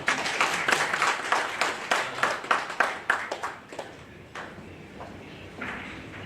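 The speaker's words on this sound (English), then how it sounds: "please clap for her." An audience at a media training workshop claps, dense and loud at first. The applause thins out over several seconds into scattered claps that fade to quiet room noise.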